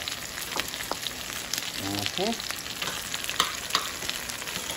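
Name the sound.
eggplant frying and being stirred in pan for binagoongan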